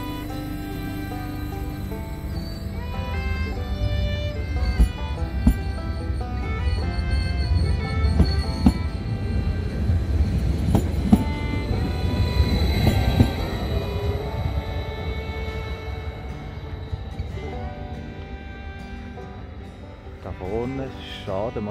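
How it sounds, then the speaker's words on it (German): A train pulls out of a city station and heads onward, a steady low rumble of wheels and rail noise rolling on for the whole stretch, with talk over it. "Der Zug fährt jetzt weiter Richtung Valor."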